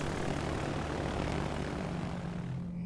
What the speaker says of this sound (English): So we're going to start out by taking off with the torpedo bombers.